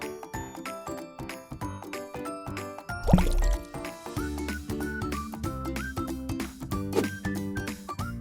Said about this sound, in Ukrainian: я буду дути у мильну воду.